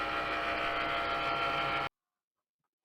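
A Cricut machine debossing medium cardstock runs with a steady, faint mechanical hum. It cuts off abruptly to near silence before a brief return at the very end.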